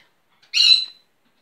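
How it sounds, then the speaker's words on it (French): One bird gives a single short, harsh squawking cry that is bright and fairly close, and the rest is silence. "Les oiseaux crient."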